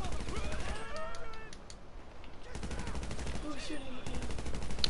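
Rapid gunfire in Grand Theft Auto V, bursts of automatic shots and single cracks mixed with game sounds, while someone talks over it.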